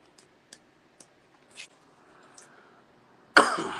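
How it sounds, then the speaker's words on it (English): One sharp, loud cough bursts out close by after a few quiet moments of soft taps and rustles. "got a fucking cough."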